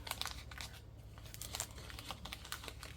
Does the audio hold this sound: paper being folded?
yes